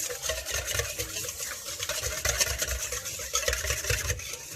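Yeast being stirred by hand into half a glass of warm water before sugar goes in, making a steady close scraping and swishing that continues throughout.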